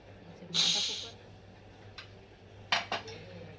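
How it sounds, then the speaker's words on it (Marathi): A pressure cooker holding cooked chicken is opened in a home kitchen: a short sharp hiss of released steam, then a few metallic clinks as the lid is handled, quiet and close. "आता आपण कुकर खोलून बघूया"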